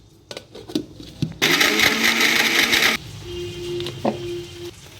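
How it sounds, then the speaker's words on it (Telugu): A mixie grinder blends brinjal and garlic chutney in a loud burst lasting about a second and a half, framed by clicks, handling knocks and a brief steady tone afterward. "ఇప్పుడు మిక్సీలో వేస్తాను నేను"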